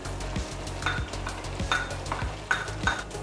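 Tomato ketchup sauce masala added to spices frying in a pan and stirred for a bell pepper baby corn dish, with a steady sizzle under repeated scraping strokes of a spoon against the pan.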